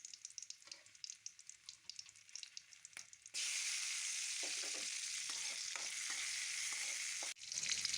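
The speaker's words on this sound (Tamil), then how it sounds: "2 தக்காளி அரிஞ்சு போட்டுக்கலாம்." Chopped tomatoes hit a pan for a spicy kara chutney: after a few quiet seconds of light clicks and faint frying, a loud, dense sizzle erupts and holds steadily, briefly dipping near the end.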